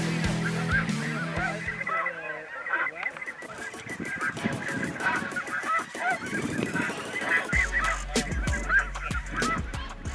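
A large flock of snow geese honks loudly and continuously during a goose hunt, many overlapping calls forming a dense, noisy chorus with a few sharp bursts near the end.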